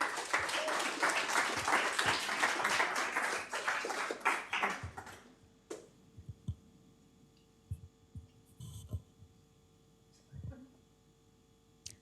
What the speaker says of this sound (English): we are going to keep that round of applause going for Lunchbox, our next startup